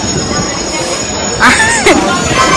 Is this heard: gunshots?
no